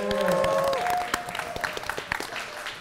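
Studio audience applause at a rap battle show, a short burst of clapping that starts under a tonal sting from the music and continues as scattered, moderately loud claps.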